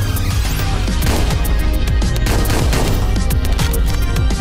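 Gunfire in the top-down action game Hotline Miami 2, loud and relentless, with rapid overlapping shots and crashing impacts in a constant barrage over a thumping game soundtrack.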